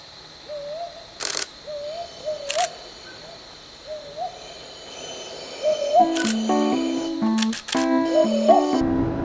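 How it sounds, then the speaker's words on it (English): Brown hawk owl calling from a tree in Arunachal Pradesh, a series of soft, evenly spaced hoots repeating at moderate distance, joined later by louder tonal calls and a few sharp clicks. "we are going in search of the brown hawk owl which is generally found in this area"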